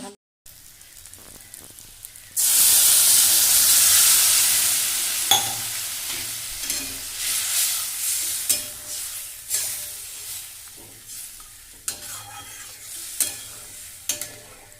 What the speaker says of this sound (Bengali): মশলাটা আমার ভালো করে কষানো হয়ে গেছে এখন এর মধ্যে আমি আলুটা দিয়ে মশলার সাথে